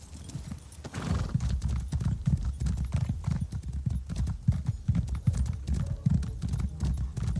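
Rapid, steady hoofbeats of a horse in the video game Elder Scrolls Online clatter continuously in a galloping rhythm, with a brief whinny near the start.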